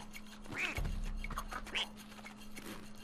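Cartoon duck quacks from the Rayman Legends platform game, a few short nasal squawks over faint background game sound, moderately close.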